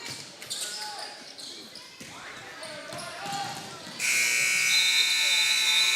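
Scattered game sounds and crowd noise at a high school basketball game give way to a loud, sustained electronic game-ending buzzer that blares steadily to the end.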